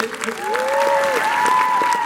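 An audience at a Comic-Con panel applauds throughout, steady clapping from a crowd, with a whistle or high voice rising over it and some scattered voices.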